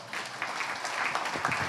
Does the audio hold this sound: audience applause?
yes